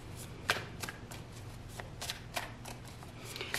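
Tarot cards being shuffled by hand, a steady riffling and brushing of card stock with sharp flicks and slaps scattered through, close and fairly quiet, with no voice over it.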